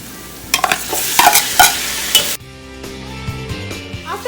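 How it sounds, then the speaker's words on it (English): Onions and three chopped tomatoes sizzle in a hot pan for chicken biryani, a loud close fry with scraping stirring strokes, easing to a steadier quieter sizzle, with no talk. "Now we'll saute the onions till they turn lightly brown."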